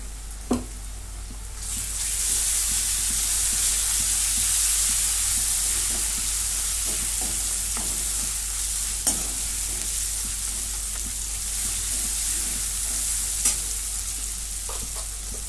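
Ginger garlic paste hits well-browned onions in a hot pan, setting off a loud, steady sizzle and hiss that holds without a break, with a few sharp utensil clinks and no voices.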